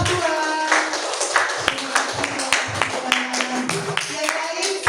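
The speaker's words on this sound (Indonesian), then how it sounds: "Tepuk tangan buat kelompok 2." Classroom applause for a student group, a dense patter of clapping from many hands that runs throughout alongside chatter and voices.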